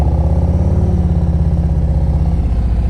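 A motorcycle at slow-speed riding practice idles and putters with a steady, loud low rumble, engine note holding even with faint clattering and no strong revving, heard up close.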